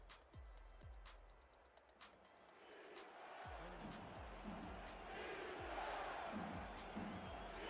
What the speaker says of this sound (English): Crowd picks up a chant of defense.